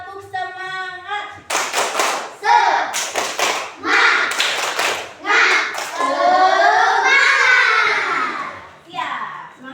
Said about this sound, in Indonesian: coba Ibu mau tepuk semangat